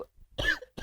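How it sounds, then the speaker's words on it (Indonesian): A short burst of coughing, two rough coughs close to the mic with a pause between, heard alone without talk. "aduh batuk gua"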